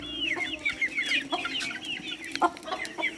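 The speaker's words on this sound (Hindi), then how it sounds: "देखिए फाइट हो चुकी है मुर्गियों की" Hens cluck and squawk in rapid, agitated bursts during a fight, close and busy, with overlapping calls and scuffling over a faint background hum and no talk.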